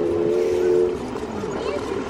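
A sustained low horn-like train tone sounds at a distance, fading after a second into a steady rumble of rail noise.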